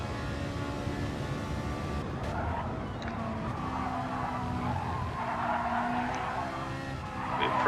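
Ferrari mid-engined race car in a sim racing game pushed hard into a corner, its engine droning steadily with rising tyre squeal and skidding as it turns in, continuous and close.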